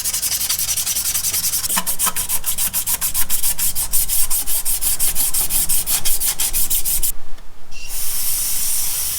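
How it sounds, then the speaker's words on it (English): A Scuff Bright pad scrubs the surface of a Tacoma oil pan in rapid, even back-and-forth strokes, a loud close raspy rubbing that runs almost continuously before a brief pause near the end. "I'm going to scuff this area up with some Scuff Bright"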